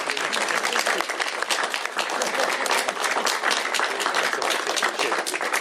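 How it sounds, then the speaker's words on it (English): Audience applause at a Washington State right-to-repair bill signing, a dense, continuous wash of many hands clapping at an even level throughout. "give him a round of applause as well for his hard work"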